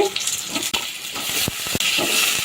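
Cut, washed moringa drumstick pods sizzle and hiss in hot oil for an egg drumstick curry, with scattered clinks and knocks of stirring over the steady frying.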